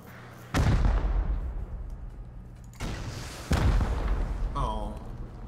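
Three heavy rocket explosions during a base raid in the survival game Rust, each a loud close boom with a decaying rumble, spaced a couple of seconds apart, with brief voices in between.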